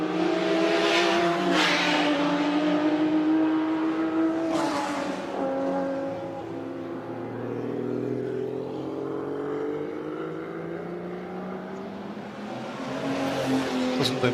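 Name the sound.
Lancia Monte Carlo turbo race car engine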